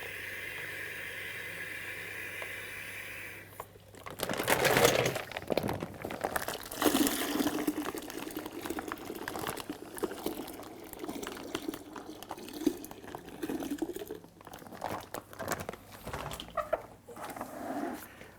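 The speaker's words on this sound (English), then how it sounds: "I'm going to fill it with more cold water than hot." A bucket being filled with cold and hot water for home wine brewing: a steady rush of pouring liquid starts after a few seconds of quiet and runs on continuously, close and fairly loud.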